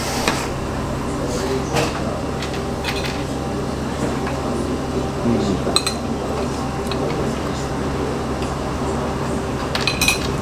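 Spoon clinking against dishes at a table in a Bursa restaurant, a few light metallic taps and chinks scattered over steady room noise and background chatter.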